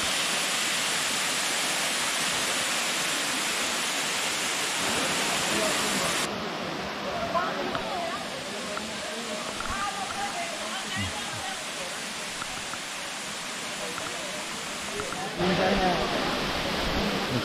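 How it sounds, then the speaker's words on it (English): A steady roar of water falling at Gozalandia waterfall rushes throughout, with faint voices talking briefly underneath the constant broadband wash. "And our first view of the waterfall. There it is. Some good water flowing."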